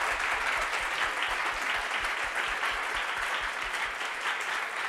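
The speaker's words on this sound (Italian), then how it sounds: "Direi di fare un altro applauso." A lecture audience in a university hall gives a sustained round of applause, dense and even clapping from many hands lasting several seconds without speech.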